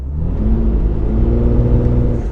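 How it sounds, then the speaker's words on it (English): A Mitsubishi Eclipse Spyder's V6 engine accelerates, a loud, steady droning hum with a rising tone and a deep rumble underneath, heard alone without talk. "there's one place where the car does feel decidedly sporty, and that's on acceleration"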